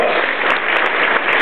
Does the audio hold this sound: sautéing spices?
no